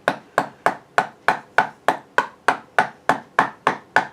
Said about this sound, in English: Let's see if we can chisel that one out